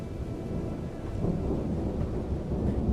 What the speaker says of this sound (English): Thunder noises.